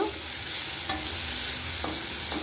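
Ginger and curry leaves fry in hot oil until brown, giving a continuous crackling sizzle. A couple of soft utensil taps sound near the pan, with no talking.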